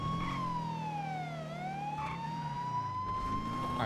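A police siren in the GTA roleplay game wails loud and steady, its pitch sliding down and then climbing back up in a slow cycle, with a low engine rumble underneath and no talking.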